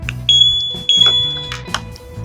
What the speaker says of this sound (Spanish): Cuando yo abro, se activa la sirena.